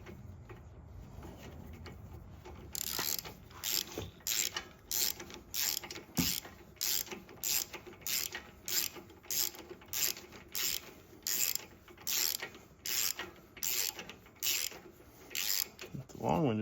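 Ratchet with an extension tightening on a Husqvarna zero turn mower engine during an oil and filter service, a long run of steady rhythmic clicking bursts after a quiet start, close and clear with no talking.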